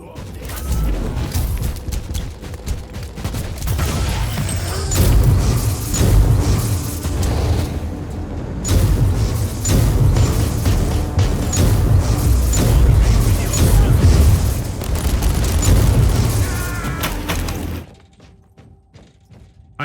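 Grenade blasts and heavy combat in Warhammer 40,000 Inquisitor – Martyr, with dense, loud booming and thudding impacts running continuously for most of the stretch before cutting off abruptly near the end.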